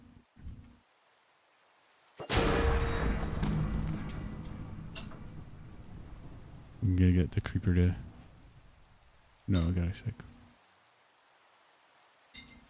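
Rain falling in Minecraft, a broad hissing wash that swells then fades, broken by bursts of game noise while someone talks over it.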